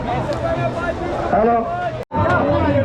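A dense crowd at the Sailani Baba yatra fair in Chikhli, Buldhana keeps up a steady loud hubbub of many overlapping voices close by, with a brief drop to near silence before the chatter resumes.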